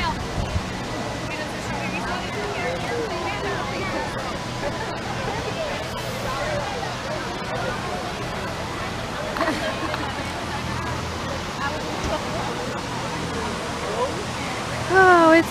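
A water fountain at a Disney park splashes continuously, a dense rushing wash of falling water heard up close, with people talking and crowd chatter over it throughout.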